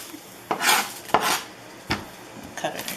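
A kitchen knife slices through an onion on a cutting board, giving several sharp cuts and knocks against the board in an irregular rhythm, close and clear with no talk.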